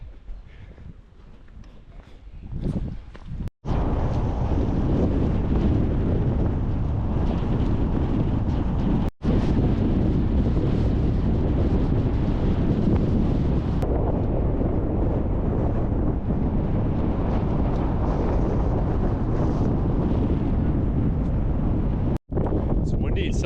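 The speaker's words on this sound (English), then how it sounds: "It's windy and sunny." Strong wind blows across an outdoor microphone in a sunny parking lot at a volcano national park, a loud, steady roar with a few abrupt cutoffs.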